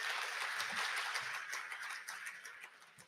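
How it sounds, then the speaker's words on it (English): A round of applause from an audience at a hackathon opening ceremony, dense rapid clapping that rises early and then gradually thins and fades toward the end. "Yeah, round of applause"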